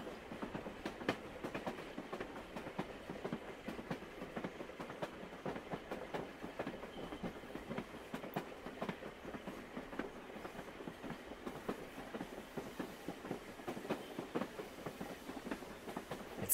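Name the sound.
train moving on rails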